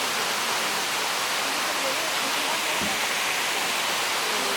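Waterfall in Costa Rica: a loud, dense, unbroken roar of falling water filling the whole scene, steady throughout with no pauses.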